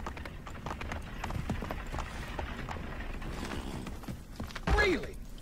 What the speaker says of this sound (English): I forget I can't spur the horse when I'm inside the city.